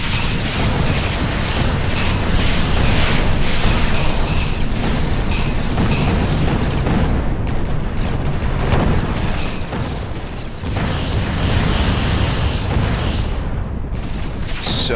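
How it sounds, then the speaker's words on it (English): Continuous roar of ship explosions in the space strategy game Sword of the Stars, booming bursts and pops layered into a loud, dense, unbroken wall of blasts. "So many people exploding."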